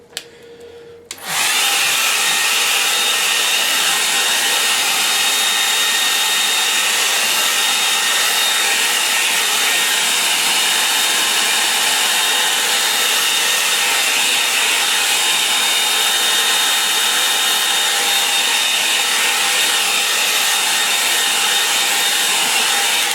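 A hair dryer blasting steadily over a watercolour painting, switching on after a moment and running loud and close without a break, with no one talking.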